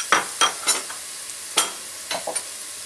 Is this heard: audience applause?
no